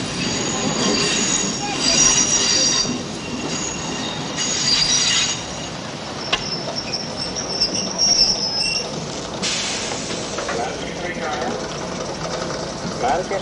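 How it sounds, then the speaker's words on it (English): A train pulls into a platform at Manchester Victoria station with loud, sustained wheel squeal and rumbling, the metallic screech rising and fading over a steady roar, with a voice faintly underneath. "Train arriving at platform 16 is the 1735 from Blackpool."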